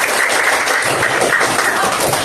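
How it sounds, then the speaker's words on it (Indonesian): A classroom of students applauds together after a presentation, a dense, steady wash of clapping that holds evenly for a couple of seconds with no talk over it. "Tepuk tangan buat kita semua."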